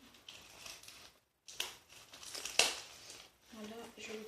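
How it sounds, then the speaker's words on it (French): A small cardboard package is torn open by hand, giving several crinkling, ripping bursts up close, with a brief pause partway and a voice speaking near the end. "Donc, dans un petit carton comme ça. Donc, il faudrait bien le déchirer."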